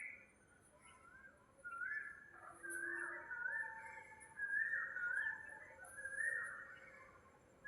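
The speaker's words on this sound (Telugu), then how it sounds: "ఏనండి అది కోయిల" An Asian koel in a village near a railway track, calling in the morning with a series of rising whistled notes repeated several times at moderate distance over quiet background.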